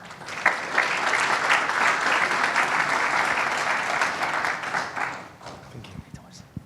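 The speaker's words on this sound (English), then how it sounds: "Please give him a round of applause" A conference audience at an energy-sector winter summit and awards ceremony breaks into loud, dense applause that holds steady for about five seconds, then thins into scattered claps while a voice starts to speak.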